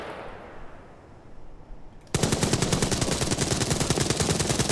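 Rapid automatic gunfire in the shooter Arena Breakout: Infinite, erupting loud and close after a quieter stretch of ambient noise and continuing as a dense, rhythmic burst to the end.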